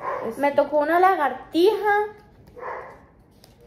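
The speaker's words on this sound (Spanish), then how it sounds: "Perdón por ese perro, de verdad, ese es el vecino." Neighbour's dog barking and yelping in drawn-out, whining calls, two clear howl-like barks followed by a fainter one, with people talking nearby.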